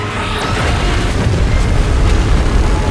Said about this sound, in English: is it gonna fire a beam at us?